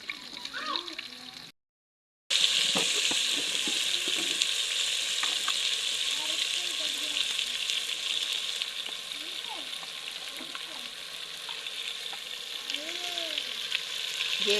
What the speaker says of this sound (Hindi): प्याज हमने डाल दिए हैं। प्याज होने वाले हैं ब्राउन